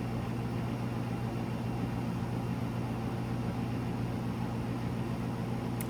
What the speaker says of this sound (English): that's my air conditioner in the background.